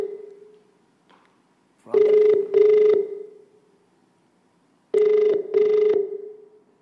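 A telephone rings in two double-ring bursts with a pause between them, loud and clear over a low steady hum, during a live call-in prize show.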